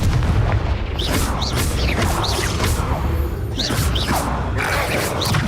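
Confringo spell explosions in the Hogwarts Legacy video game come as loud, dense booming blasts over continuous battle noise, with several sharp whooshing impacts spread through the mix.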